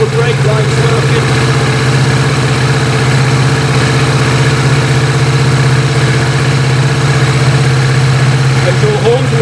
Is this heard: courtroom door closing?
no